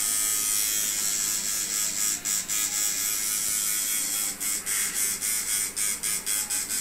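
A tattoo machine buzzes loudly and close, a high whining drone that stutters on and off in quick bursts toward the end.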